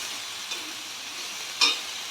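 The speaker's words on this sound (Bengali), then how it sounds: "এবার এটাকে একটু মিডিয়াম আঁচে এটা নাড়িয়ে চাড়িয়ে এটাকে পুরো জলটাকে পুরো টানিয়ে শুকনো শুকনো করতে হবে।" Kochu shak (taro greens) cooking with hilsa fish heads over medium heat, a soft steady sizzle with one brief scrape of stirring near the end, heard close and alone.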